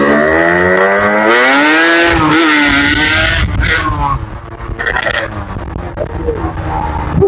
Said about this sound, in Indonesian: jadi di sini gua tes dulu ya untuk motor harian touring